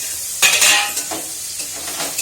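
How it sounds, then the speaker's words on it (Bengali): A lid clatters onto a metal pan of tea, a sharp clink followed by a brief metallic rattle and faint settling scrapes, close by in a quiet kitchen. "ওর কারণে আমি ঢাকা দিয়ে দিচ্ছি, চাটা একটু ঠান্ডা হোক"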